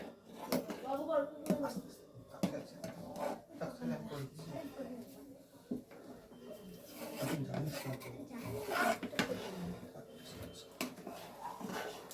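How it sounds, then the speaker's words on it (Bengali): Melting jaggery is stirred nonstop in a pan, giving raspy, rhythmic scraping strokes of a spatula across the pan bottom. Talk runs over much of it. "সেটা যাতে না হয় তার জন্য আমি অনবরত নেড়ে যাচ্ছি।"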